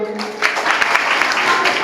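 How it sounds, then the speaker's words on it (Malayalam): Applause for students at a school life skills training session, a short burst of mixed clapping starting after a trailing voice and continuing steadily, moderately loud. "ആദ്യം അവർക്ക് ഒരു കൈയടി കൊടുക്കും"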